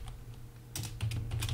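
Computer keyboard typing in quick bursts of clicky keystrokes, close and fairly quiet over a low steady hum, with the rhythm picking up toward the end while code is entered.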